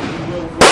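A single sharp, loud crack of a Mosin Nagant M91/30 rifle fired at an outdoor gun range, close by, bursting out abruptly after a low steady background hum.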